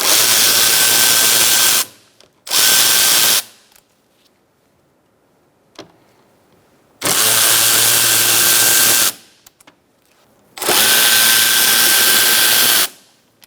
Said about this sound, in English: Using a T30, remove your Torx bit bolts.